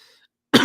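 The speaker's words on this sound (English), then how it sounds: "Got a little cough going in the stream." A single sharp cough bursts out after a stretch of near silence, loud and close, with a faint hiss before it.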